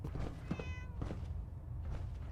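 A cat meows once, close and clear, in Fallout 4 while a storm rumbles outside, over a low, steady background hum.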